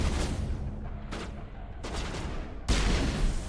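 Bursts of gunfire from the Mass Effect video game, with dense rattling volleys broken by short gaps and a louder burst near the end, heard alone without talk.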